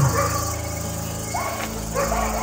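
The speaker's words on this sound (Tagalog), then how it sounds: "Aso." A dog barks and yips close by in short bursts, with a steady background hum beneath.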